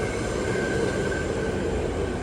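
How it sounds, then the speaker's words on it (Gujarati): A train departs in New York City as a steady, loud rumble and roar with a faint whine, constant from start to end, with no talk. "મે બી મારી ટ્રેન જતી રહી અવાજ પ્રમાણે એવું લાગે"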